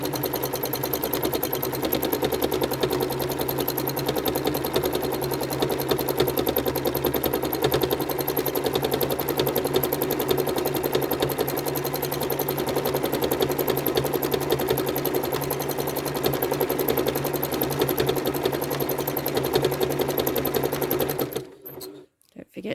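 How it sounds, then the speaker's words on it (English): A sewing machine runs at a steady, continuous hum while free-motion quilting repeating curves, loud and unbroken almost to the end, where it stops abruptly. "So at each corner, we change direction in our quilting."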